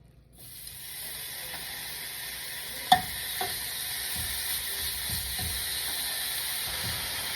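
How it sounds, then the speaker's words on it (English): Beef steaks sizzle on an oiled flat-top griddle, a steady broadband hiss with a few small pops and scrapes, close and continuous with no talking. "We're gonna get the steaks on here. Before I put it on though, I'm gonna spritz it with a little bit of oil."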